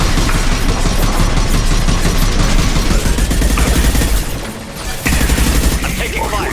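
Sustained gunfire in Mass Effect 2, a loud rapid barrage of overlapping shots and impacts with a brief lull before it resumes, voices faintly mixed in.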